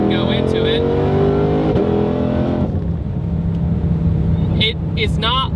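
A 2020 Shelby GT500 V8 engine rumbling as it downshifts in manual mode, a loud sustained drone that drops in pitch partway through, with brief higher chirps near the end.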